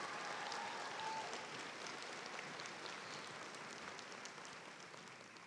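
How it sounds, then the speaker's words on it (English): Faint, distant applause from an audience at a spring graduation ceremony, a steady patter of clapping that slowly fades over several seconds with no speech. "Let's give them a round of applause, please."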